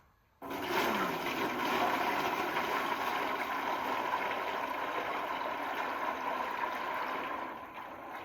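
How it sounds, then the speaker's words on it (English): Maple sap pours into a pan for boiling outdoors, a steady splashing rush of liquid that starts abruptly and runs evenly for several seconds before easing off. "So we're going to pour the maple sap in first."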